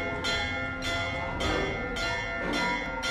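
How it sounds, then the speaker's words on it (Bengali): A large monastery bell rings loudly and repeatedly, its strokes about every half second, each blooming into a rich, sustained metallic hum that overlaps the next. "মঠের বেলঘর থেকে এবার ঘন্টাটা বেজে উঠল জোরে জোরে।"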